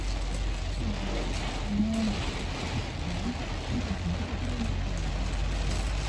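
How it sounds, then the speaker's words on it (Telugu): Heavy rain pours over Hyderabad streets with passing traffic, a dense steady hiss throughout with faint engine hum and occasional tonal vehicle sounds underneath. "అసలు హైదరాబాద్ ఇంత రెయిన్ పడ్డం ఫస్ట్ టైం చూస్తున్నాను"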